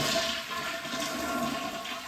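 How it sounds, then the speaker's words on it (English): A toilet flushes during a bathroom remodel, its water supply already shut off and the tank drained, giving a short, close rushing gurgle of water draining away with no talking. "I'm going to flush the toilet."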